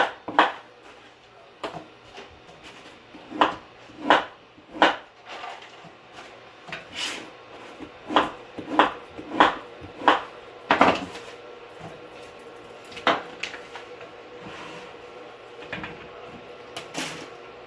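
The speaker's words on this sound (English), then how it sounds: "Just going to chop these into 4ths." Fresh strawberries being chopped into quarters with a knife on a cutting board, a series of distinct knocks in uneven rhythm, some in quick clusters, close and moderately loud in a quiet kitchen.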